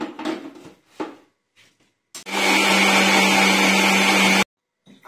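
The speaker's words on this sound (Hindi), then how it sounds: "अब एला मन मिक्सी में चलाबो" An electric mixer grinder whirs loudly for about two seconds while blending a grape recipe, starting abruptly and cutting off sharply, with faint clatter before and after.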